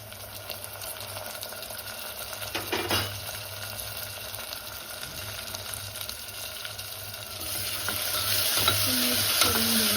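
Tomatoes and green chilli sizzle in a hot pan with browning masoor pulav base as a spoon stirs them, a steady frying hiss with scraping strokes that grows louder and brighter toward the end, no voices.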